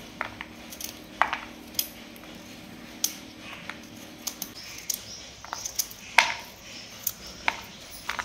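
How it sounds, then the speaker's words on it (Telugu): Peeled coconut being cut into small pieces with a knife on a board, a run of light, separate clicks and taps at an uneven pace, close and fairly quiet, with no talking. "కొబ్బరిని మొత్తం ఒలుచుకున్న తర్వాత చిన్న చిన్న ముక్కలుగా కట్ చేసుకోవాలి"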